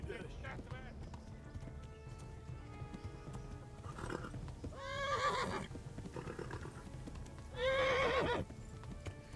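In the video game Kingdom Come: Deliverance, horses whinny loudly twice over galloping hooves and a busy background of voices and game-like effects.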